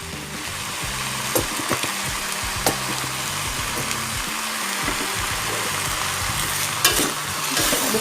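Kwetiau noodles with soy sauce and ground pepper are stirred in a hot frying pan, a steady close sizzle broken by soft scraping and clacking of the utensil against the pan.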